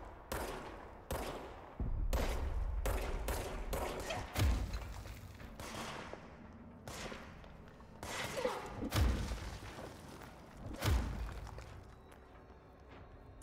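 Gunfire in the video game Control comes as scattered bursts of shots with heavy thumps and impacts, some sharp and some booming, set against quieter game ambience.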